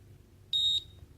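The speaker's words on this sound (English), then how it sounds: "press and hold until it beeps" A single short, high electronic beep from a Gymboss interval timer, clean and sharp, lasting a quarter second against quiet background hiss.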